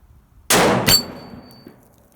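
A single 6.5 Creedmoor Ruger Precision rifle shot at 300 yards, a sharp loud crack followed almost immediately by the bright metallic ring of an 8-inch steel gong being hit, decaying briefly.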